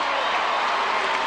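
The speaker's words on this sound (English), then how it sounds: "This crowd really coming alive now." Arena crowd noise at a 1991 NBL basketball game between the Melbourne Tigers and North Melbourne Giants, a steady broadband roar of cheering filling the whole brief moment.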